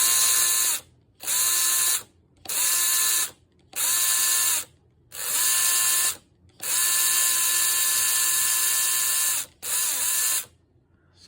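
Electric motor in a scratch-built Indy car model whirring in repeated bursts of about a second each, with one longer run, high-pitched and close, separated by short silences.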